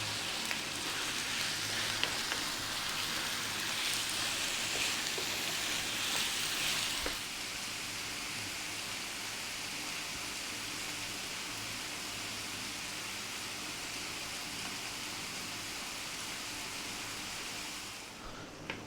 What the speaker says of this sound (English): That meat's cooking really nicely.